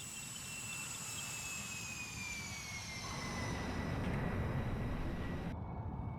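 An F-100D jet in DCS World rolls out after landing while aero braking, a steady jet engine roar with high whining tones that slowly slide downward before cutting off abruptly.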